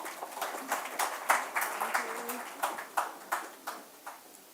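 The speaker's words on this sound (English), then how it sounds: "needs a bigger round of applause" Sparse, uneven clapping from a small audience at a literary festival in Bengaluru, individual claps distinct and fading out over a few seconds in a roomy space.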